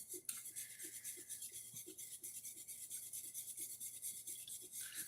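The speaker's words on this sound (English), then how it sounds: "You spend a lot of time whisking." Eggs whisked in a bowl for scrambled eggs, a faint, rapid, rhythmic scraping and tapping that keeps a steady beat throughout.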